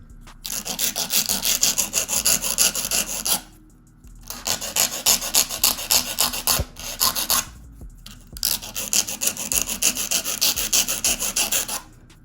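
A file rasps over acrylic nails in steady back-and-forth strokes, close and crisp, in three long bursts separated by brief pauses.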